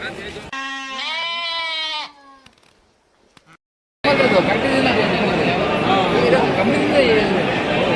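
A passing flock of sheep bleats loudly and repeatedly up close for a couple of seconds, then falls quiet, before a dense wash of noise and chatter takes over.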